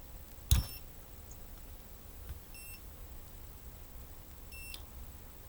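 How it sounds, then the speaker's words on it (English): Faint, short electronic beeps from a drone's low battery buzzer, spaced a couple of seconds apart over quiet background noise, after a single sharp click at the start. "it beeps low at first"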